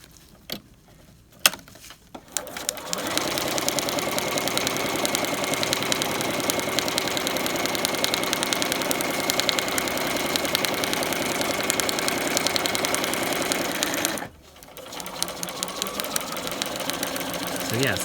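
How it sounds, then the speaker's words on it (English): A sewing machine stitches a trapunto quilting piece from the middle toward the outer edges. Its fast, even mechanical whir runs continuously for about twelve seconds, stops briefly, then starts up again. "Now we're going to turn around and sew in the opposite direction"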